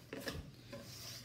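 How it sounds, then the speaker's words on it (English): A whisk scrapes and rasps through cheesecake batter as dry ingredients are mixed in for a Japanese cheesecake, a few quiet rubbing strokes close up with no talking. "mixing in my dry ingredients until everything is nice and smooth"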